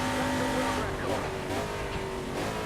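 An Oreca LMPC Le Mans prototype race car in Assetto Corsa at Sebring holds a loud, steady engine whine with shifting pitch as it crosses the start-finish line, with someone talking over it.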